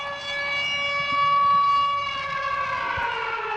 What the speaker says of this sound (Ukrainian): Над залізничною станцією межова лунає чергова повітряна тривога.